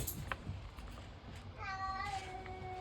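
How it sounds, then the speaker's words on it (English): A cat meows several times in an indoor room where someone is doing planner decorating, the tonal cries clustered toward the end and fairly soft. "Leave the cat alone."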